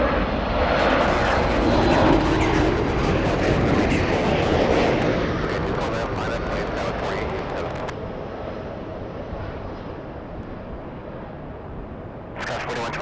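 A United Boeing 737 jet airliner arriving from Dallas roars at LAX, a loud broad engine rumble that slowly fades over several seconds, with radio chatter from air traffic control audible underneath.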